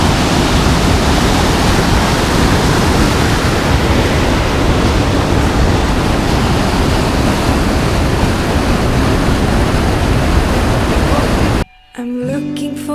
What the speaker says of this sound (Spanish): esto es Río Valdiferno